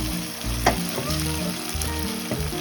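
Ginger and garlic fry in a pan for a coconut fish stew, making a loud, continuous close-up sizzle with a few brief bursts of crackle and a low tonal hum underneath.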